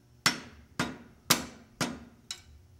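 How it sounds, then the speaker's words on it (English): Five sharp, evenly spaced blows from a dead blow hammer tapping apart the housings of an old Sears saw, each strike loud and close with a short ringing decay, no talk. "Make sure you use a dead blow hammer"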